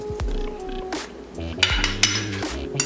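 Beef and broccoli being stirred in a pan, with a few close metallic clinks and scrapes of a utensil against the pan over faint background voices.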